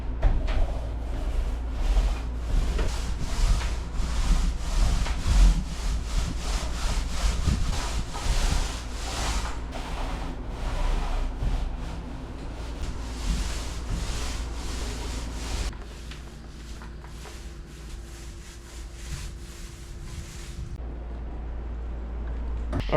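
A paint roller spreads coating across an enclosed trailer floor in rhythmic, rasping back-and-forth strokes, loud and close at first, then easing into quieter, smoother passes near the end.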